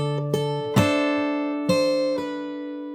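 Fingerstyle acoustic guitar plays a short passage, a few plucked notes with hammer and pull-off phrasing ringing out over sustained open strings, close and clear with no talking.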